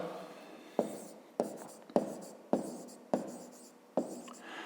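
Handwriting in a notebook while working a grade-5 math exercise, with a series of crisp, evenly spaced pen strokes and taps about every half second, heard close and alone.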